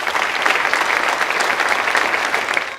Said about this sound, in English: Could we please give them all a round of applause?